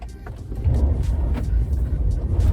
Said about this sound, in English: I want to demonstrate in this short uphill run we have is the performance, the acceleration capability of the Lightning Pro